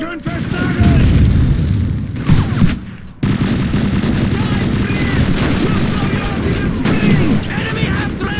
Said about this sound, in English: German grenade! Move!